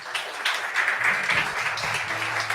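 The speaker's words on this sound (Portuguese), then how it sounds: "Você pode dar um aplauso a Jesus" A church congregation applauds during a Sunday morning worship service, a steady wash of clapping filling the room for a couple of seconds with a faint voice underneath.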